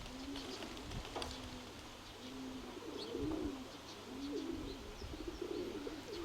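Pigeons coo softly in a repeating sequence of low, rolling calls, with faint chirps and light outdoor background noise around them.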